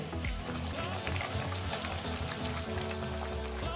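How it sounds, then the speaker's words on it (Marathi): Soft, continuous bubbling and crackling of a Goan-style kingfish curry simmering in a pot, fairly quiet and steady with no talking. "मस्त उकळी आलेली आहे"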